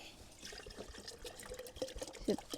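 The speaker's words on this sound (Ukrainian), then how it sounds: "Добавляємо ще баночку води." Water from a jar poured into a sprayer tank while mixing a grapevine treatment, a faint trickle and splash with small gurgling drops near the end.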